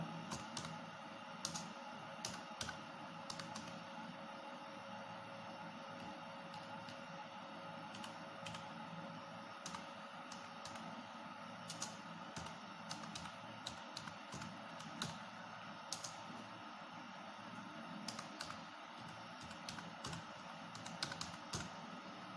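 Fingers type on a computer keyboard in a quiet room, producing faint, irregular bursts of soft key clicks that continue throughout with short pauses between.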